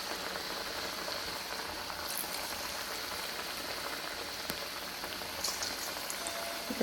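Sweet banana vada deep-fry in oil over low gas, giving a steady, dense bubbling sizzle throughout with a few faint clicks and no talk.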